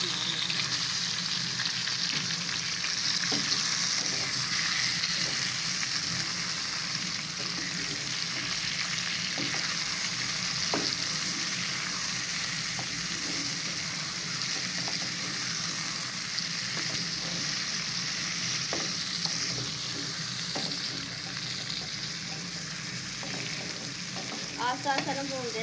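Chicken pieces for qorma fry in a pot with a constant loud hiss and sizzle, stirred slowly throughout with occasional soft scraping knocks, no voices over the long steady crackle.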